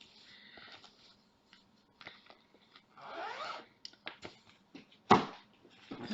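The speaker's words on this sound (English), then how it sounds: "Oh, my basting line got caught in the zipper." A zipper on a small craft bag is pulled close up in short rasping bursts, with one sharp loud zip near the end amid quiet handling rustles.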